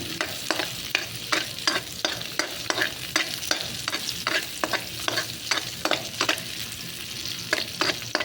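Onion, chili and garlic are sautéed in a pan, with regular rhythmic spatula scrapes over a continuous sizzle, close and moderately loud, with no talking.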